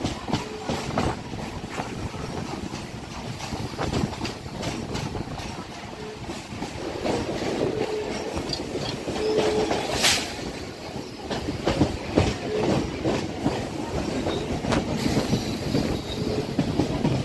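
The Dankuni Local suburban train from Sealdah rolls along with continuous rumbling and steady clickety-clack of the wheels, heard from inside at moderate loudness with occasional brief squeals.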